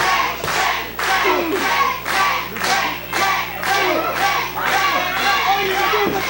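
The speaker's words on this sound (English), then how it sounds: "Listen to this crowd." Wrestling crowd at a CWF Mid-Atlantic match clapping in a steady rhythmic beat, loud and close, with cheering and a ringside commentator talking over it.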